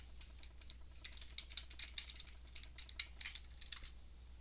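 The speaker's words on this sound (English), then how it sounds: "Don't try to guess the letters that I'm typing by the sound." Quiet clicking keystrokes tap in irregular bursts on a computer keyboard, close by and without any voices.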